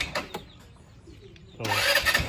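A motorcycle engine fitted with a D-type carburetor is kicked over a few times, then catches and starts running loudly after a quiet pause.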